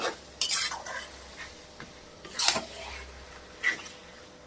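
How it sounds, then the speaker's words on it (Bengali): Mutton curry stirred in a pot with tomato added, a spoon scraping and clinking against the metal in several short irregular bursts over a low background hum, with no talk. "এবার আমি নাড়তে থাকবো।"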